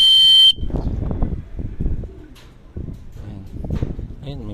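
Racing pigeons arrive at a loft after a 92 km race, with soft coos and wing flutters under talk, a brief electronic beep at the start.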